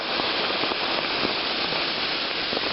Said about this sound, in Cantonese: 因為而家係雨勢非常之大啊